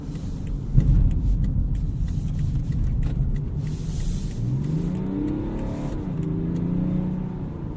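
A BMW X5 xDrive35d diesel engine rumbles steadily, rising and falling in pitch as the SUV accelerates through bends on a snowy road, heard from inside with no talk.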